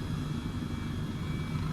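Airbus 135 helicopter in Microsoft Flight Simulator flying slowly in wind, a steady loud low rotor and engine drone with a faint high turbine whine running throughout, no voices.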